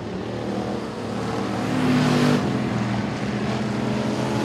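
Factory stock race cars roar around Sabine Speedway during a heat race, a steady, loud engine drone that swells briefly as cars pass nearby, with no talk over it.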